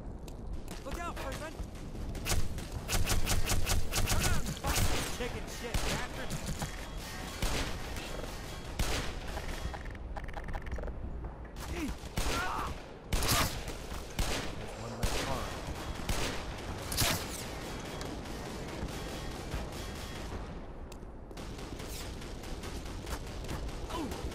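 Dense, continuous gunfire with rapid bursts and explosions under a busy soundtrack in the video game Black Mesa, steady and loud throughout.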